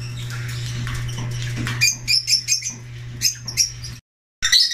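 A pet cockatiel gives a series of short bright chirps and squawks close by, over a steady low hum, with a brief silent gap before a final burst of calls.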